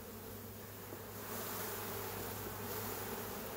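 Honeybees from a shook swarm buzzing in a dense, steady hum, fairly faint, swelling slightly louder partway through.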